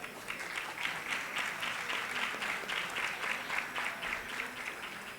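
Sustained audience applause for the panel chair at a consumer law and public services panel, a dense even patter of many hands clapping that holds steady throughout without a break.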